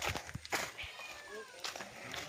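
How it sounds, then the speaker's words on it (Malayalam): Several cats meow near the camera, a few short, faint meows scattered over soft background noise. "വണ്ടി കാണാൻ കുറെ പൂച്ചകളും വന്നിട്ടുണ്ട്."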